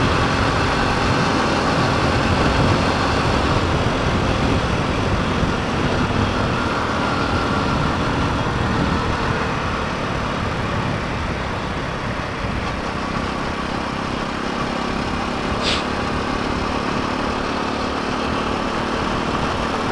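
A motorcycle rides along a road in the early morning toward Telipuk: a steady, continuous engine drone and wind roar that stays loud and even throughout, with no talking.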